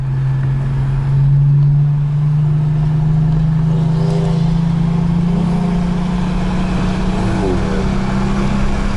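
Ford GT500 accelerating hard in a roll race, a loud, close, sustained engine drone climbing steadily in pitch for several seconds.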